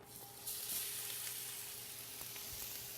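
Spiced shrimp hit a really hot pan and start frying, a loud hiss bursting in and settling into a steady close-up sizzle with faint crackles, no talking over it.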